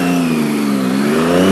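A car engine passing close by on a road, a strong steady engine tone that rises in pitch and grows louder toward the end as the vehicle accelerates past.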